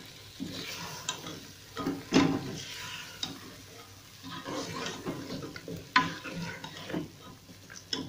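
Mutton pieces frying in a spiced onion-tomato masala over raised heat, a soft steady sizzle broken by occasional scraping stirs and a couple of sharp spoon clinks, with no talking.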